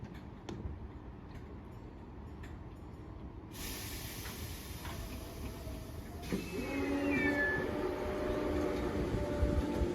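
A Merseyrail Class 507 electric train, in service for 46 years, running as a special: a low rumble with a sudden loud hiss partway through, then rising motor whine and squealing tones as it moves off.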